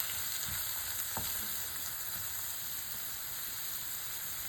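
Onion and chopped chili frying with spice paste in a pan, a steady close sizzle with a faint stir near the start, no talking.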